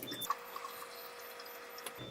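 Strongly alkaline 11.5 pH Kangen water runs from a tap over food in a sink, a short, soft, steady stream of pouring water heard close and alone.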